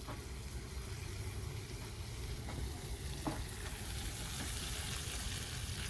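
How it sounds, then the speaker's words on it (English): Onions sautéing in oil in a pan, a continuous soft sizzle with faint stirring scrapes, fairly quiet and unbroken, with no talk. "So let's get these all sauteed nicely going."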